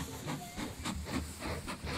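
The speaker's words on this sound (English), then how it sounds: "I think that would be our passenger train." Steam hiss from a passenger train in the Mashinky railway-building game, a steady broadband hiss with soft rhythmic chuffing pulses, fairly close and continuous without speech.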